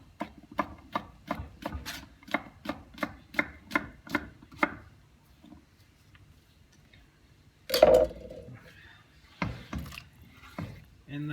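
A knife slices a small zucchini into half moons on a cutting board, a quick regular series of crisp taps, then a pause followed by a louder clatter and a few scattered chops.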